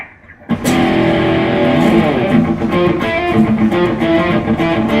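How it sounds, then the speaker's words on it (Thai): After a brief quiet moment, a loud, thick distorted Fender Black Top Telecaster electric guitar on its bridge humbucker pickup rings out, chords sustaining and shifting, close and dense. "เดี๋ยวเรามาฟังทางด้านฝั่งเสียงแตกกันดูนะครับ"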